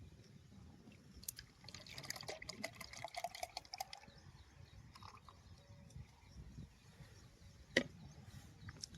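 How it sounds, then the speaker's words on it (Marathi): Water poured from a container into a sprayer tank while mixing Roundup herbicide for a cotton field, a low trickling and splashing flow with scattered drips and one sharp knock near the end. "आता आपल्याला या डब्याने याच्यात पाणी टाकायचं आहे."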